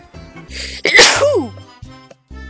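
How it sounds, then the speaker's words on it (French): A single loud sneeze bursts out, preceded by a sharp breathy intake and followed by quieter sounds and a short pause. "J'ai failli roter et éternuer en même temps."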